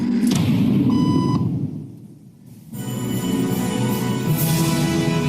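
A short electronic beep sounds once early on, followed by a brief lull and then a busy background hum of activity.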